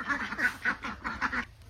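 Several ducks quack in a lively run of repeated calls, about six bursts close together, loud and near, then a short quiet tail at the end.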